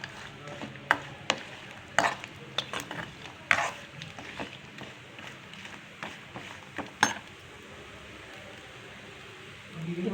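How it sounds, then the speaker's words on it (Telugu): Coconut pieces fry lightly in a pan as a utensil stirs them, making irregular close scraping clicks and taps over a soft sizzle, followed by a quieter stretch. "లైట్గా వేయించుకోవాలి కొబ్బరి ముక్కలు."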